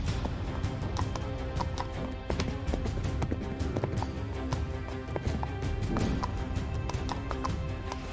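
Horse galloping in the Hellsplit Arena video game, a steady run of hoof clip-clops with occasional sharper taps, continuous and fairly loud against game background sound.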